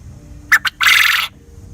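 Pet quail calling up close: two short sharp notes followed by a longer, louder harsh call, alone with no talking.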